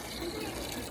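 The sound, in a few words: water running from a tap, filling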